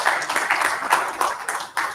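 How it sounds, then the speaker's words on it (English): An audience at a conference opening ceremony claps in a dense, steady round of applause throughout. "Please, can we give another resounding applause?"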